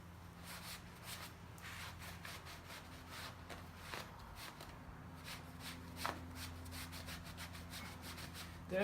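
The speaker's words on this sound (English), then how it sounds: "Now I'm going to go ahead and clean this up and I'll get that prepared and ready for welding." Metal body panels on a Jaguar car are wiped down with a rag and acetone before welding, giving steady soft rubbing and scrubbing strokes, close and fairly quiet, with no talking.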